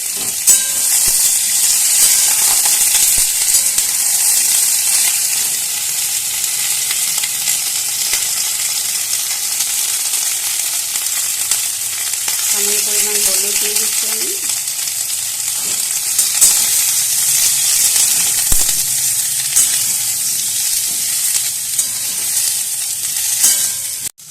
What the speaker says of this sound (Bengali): এবার দিয়ে দেবো ভেন্ডিগুলো একসাথে ভেজে নেবো